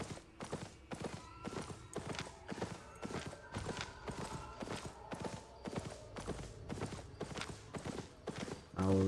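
Hooves of a horse mount galloping in a PvP video game, a fast regular clip-clop pounding steadily for several seconds, fairly close, before the rider dismounts at the end.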